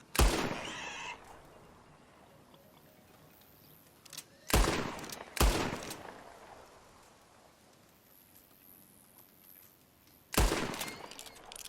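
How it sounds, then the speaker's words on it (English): Sharp gunshots in the Red Dead Redemption 2 video game, four loud isolated cracks spaced several seconds apart, each with a short decaying tail over a quiet ambient background. "Okay, keep shooting, keep shooting."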